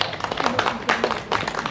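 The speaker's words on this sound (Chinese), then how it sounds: "请掌声鼓励" Audience clapping at a scholarship award ceremony in Hemei, Taiwan, a short steady round of applause in a hall with a few louder swells, no speech over it.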